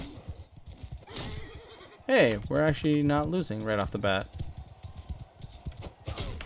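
Horse hooves and a whinny in the medieval battle game Mount and Blade II: Bannerlord, with the neigh rising in the middle of the clip as someone talks over the game sounds.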